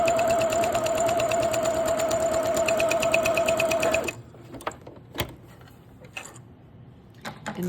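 A sewing machine runs at a fast, steady whir, stitching a zigzag seam finish down the middle of fabric for about four seconds, then stops, leaving faint clicks and handling noises.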